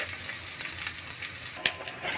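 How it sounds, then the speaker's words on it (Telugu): Onions frying in a pan on a stove produce a soft, continuous sizzle with faint stirring scrapes and a couple of sharper crackles toward the end, close but quiet, with no voices. "చూడండి బాగా వేగిపోయాయి."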